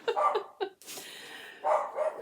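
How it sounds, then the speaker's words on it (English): A pet dog barks a few times in the background of a quiet indoor room, short faint yips in quick succession. "Sorry, that's our dog."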